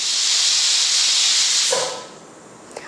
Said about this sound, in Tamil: 5 விசில் வந்துடுச்சு, ஆஃப் பண்ணிக்கலாம்.